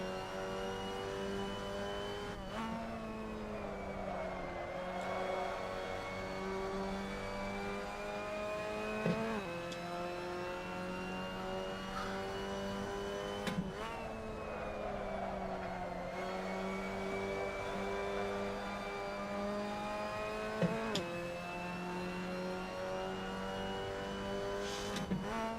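Mazda MX-5 Cup race cars lap Martinsville in a 40-car field, their engines droning and rising in pitch through repeated shifts, a steady loud onboard roar with no talking over it.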